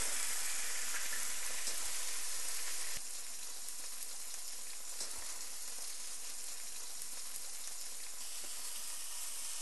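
Steak searing in a hot pan for steak au poivre, a steady close crackling sizzle with dense popping spatters that continues evenly throughout, with no talking.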